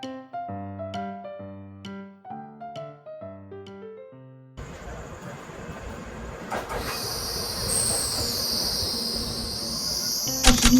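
Piano notes play first, then a train pulls into Taitung station in Taiwan at night, a building rumble of wheels with insects chirping and a rising metallic squeal near the end.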